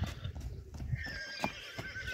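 A young horse offered for sale in a village near Issyk-Ata whinnies nearby, its high neigh rising over a few quick, uneven hoof clip-clops, all brief and fairly close.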